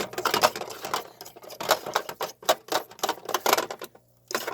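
A homemade heated vibrating parts washer made from an old Spam can, with a carburetor bowl soaking inside, rattles and buzzes in uneven rapid bursts, a close clattering vibration with brief pauses.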